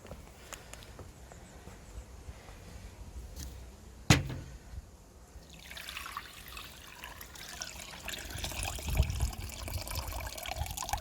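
A Roush cold air intake filter from a 2015–2017 Mustang GT being rinsed, with faint water trickling and dribbling, a sharp knock partway, then a louder, steadier running flow of water, no voices.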